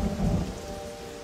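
A desert thunderstorm in Namibia brings steady, dense rainfall with a low rumble of thunder beneath it, heard alone.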